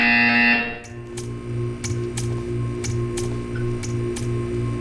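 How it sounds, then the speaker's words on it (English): Buzzer in the Portal 2 video game sounding as a series of short, evenly spaced pulses over a steady humming ambient drone, with no talk. "You will hear a buzzer."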